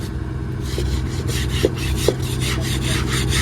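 Steady rasping strokes of sanding by hand on a fishing boat at Porbandar, a continuous near scraping texture over a low engine-like hum, with a few brief knocks in between.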